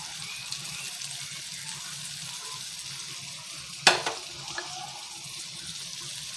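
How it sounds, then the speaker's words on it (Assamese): Meat frying with spices in a pan gives a steady, even sizzle, and a single sharp clink of a utensil breaks in near the middle. "খুব ভালদৰে মাংসখিনি লৰাই সংমিশ্ৰণ কৰি ল'ব"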